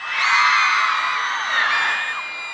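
Girls in a crowd at a Tree of Lights event let out a sustained, piercing high scream, loud and close, swelling and fading slightly over a couple of seconds.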